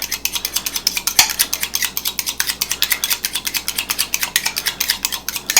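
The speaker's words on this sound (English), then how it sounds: "beat an egg." An egg is whisked briskly in a bowl, a fast, even rhythm of close, bright clicks and taps that runs steadily for several seconds.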